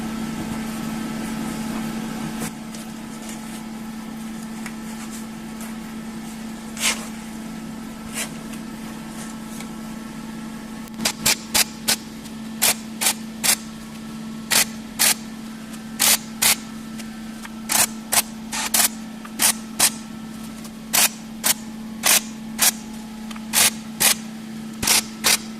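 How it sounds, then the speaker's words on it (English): Captive nuts are tack welded onto a classic Mini rear valance in a workshop: a steady electrical hum underlies a run of short, sharp welding crackles and bursts that come in quick irregular succession, close by, with no speech. "I'm going to tack them in place so they can't come off"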